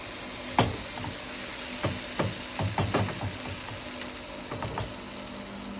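Steady sizzling of dough frying in hot oil, with occasional clicks and clatter of utensils against the pan close by.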